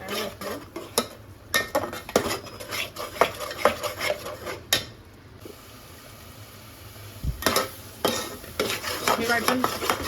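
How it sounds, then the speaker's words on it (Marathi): A spoon stirs ground masala paste frying in oil in a pan for home-cooked mutton, with repeated scraping clinks against the metal over a soft sizzle, a quieter pause midway, then more brisk stirring. "हे वाटणाला तेल सुटूपर्यंत वाटण हलवत राहायचं, जेणेकरून हे खाली नाही लागणार"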